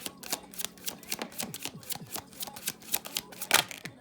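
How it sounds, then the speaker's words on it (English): Tarot cards shuffled by hand in a quick run of crisp riffling flutters and sharp slaps, close and fairly quiet, with no one speaking over them. "So now we're gonna pull 2 cards for you."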